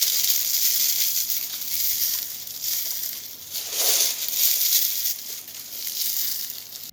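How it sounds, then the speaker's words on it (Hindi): Dry leaves crackle and crinkle as they are crushed by hand, a bright, rustling hiss that swells and fades in a few close bursts. "मसलने पर भी ये कड़कड़ की आवाज कर रही है।"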